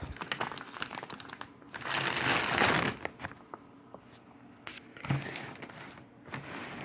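A plastic feed bag crinkles and rustles as it is folded, with a louder sustained crumple in the middle, scattered sharp crackles around it and another burst near the end, close and with no talking.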